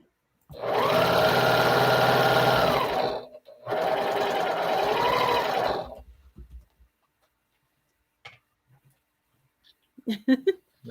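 A sewing machine runs in two steady bursts of a few seconds each, a close mechanical whir with a short pause between them, then stops. Quiet room noise and a few faint clicks follow.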